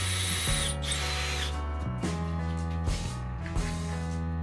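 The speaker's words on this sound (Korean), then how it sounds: "구멍 3개를 뚫어줍니다." A power drill bores three holes into a semi-basement bathroom wall, running in loud, steady bursts with brief pauses between them as each hole is drilled, close by and with no talk.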